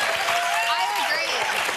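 Studio audience applause on a talk show, a dense continuous burst of clapping filling the room, with voices talking over it.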